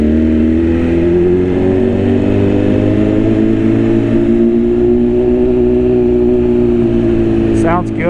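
BMW S1000RR sport motorcycle with an aftermarket exhaust, engine droning steadily at cruising revs while riding, a loud continuous tone that rises slightly in pitch, with a brief higher whine near the end.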